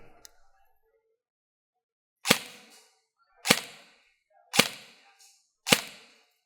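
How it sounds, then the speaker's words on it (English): An Elite Force MP7 A1 AEG airsoft gun fires four sharp, evenly spaced single shots, heard up close with the head beside the gun so the gearbox clack dominates, each shot followed by a brief tail and silence. "First, the sounds from the gearbox as your head is next to the gun."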